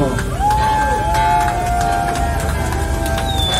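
A crowd cheers and whoops at an outdoor concert celebrating a legendary band's 40th anniversary on the Danube, the noise loud and sustained, with whistles and shouts rising above the din throughout.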